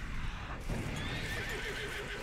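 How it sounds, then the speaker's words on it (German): A horse in Red Dead Redemption 2 whinnies loudly and steadily over a dense game backdrop, with faint hoof clip-clops mixed underneath and no voices. "Hey, mein anderes Pferd ist mitgekommen."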